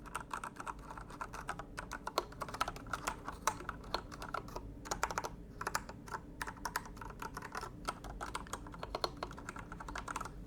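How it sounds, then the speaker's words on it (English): Keys clatter on a heavy full-size Ducky Zero 6108 mechanical keyboard fitted with Cherry MX2A red switches, a steady run of quick, close, light clicks and thocks in bursts, with no talking. "Let me go real quick and try to test on the sound."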